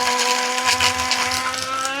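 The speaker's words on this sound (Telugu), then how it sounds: "ఇదిగోండి, ఇలా అయితే మిక్సీ పట్టేసుకోవాలి" A mixer grinder whirs loudly and continuously as it grinds roasted curry leaves with salt and tamarind into spice powder, a steady droning motor whine up close.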